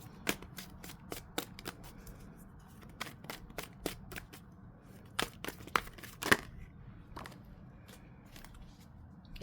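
Tarot cards are shuffled in a dense run of crisp, quick riffling clicks and snaps, close and fairly quiet, with one sharper slap near the end and no talking.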